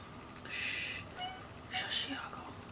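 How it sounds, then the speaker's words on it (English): A cat gives two drawn-out meows close by, separated by a brief pause, over a quiet room background. "you hear my cat wanting attention?"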